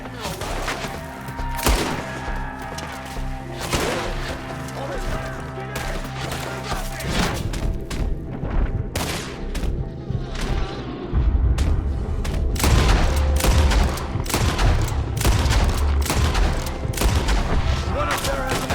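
Rapid, loud gunfire rattles through a Red Dead Redemption 2 shootout, with repeated sharp shots and bursts layered over heavy rumbling, as voices shout between the volleys.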